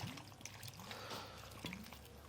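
Water is poured into a pot of spices, magaz seeds and desi ghee, a faint close trickle and light splashing over a quiet background.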